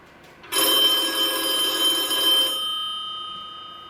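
A telephone bell rings loudly in one continuous metallic burst of about two seconds, then trails off into a fading ring in a quiet room.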